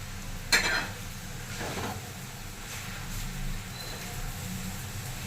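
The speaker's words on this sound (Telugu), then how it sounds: "ఇలా మంచి వేయించుకోండి" Gongura leaves frying in a pan for pachadi, a quiet steady sizzle with a couple of brief stirring scrapes and clinks.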